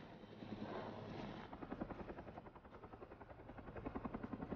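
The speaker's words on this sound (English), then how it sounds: "a helicopter pilot readies to airlift 100-foot logs out of the woods" A helicopter hovers over a Pacific Northwest forest, readying to airlift 100-foot logs, its rotor thumping in a steady rhythmic pulse under a constant turbine whine, growing more distinct after a rushing start.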